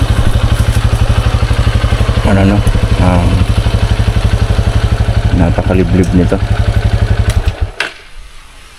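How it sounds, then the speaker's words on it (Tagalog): A motorcycle engine idles loudly and close in a rainy outdoor area on a Good Friday afternoon, a steady throbbing rumble under brief talk, then cuts off near the end. "Kung pinatay ko makina, wala nang maririnig na iba."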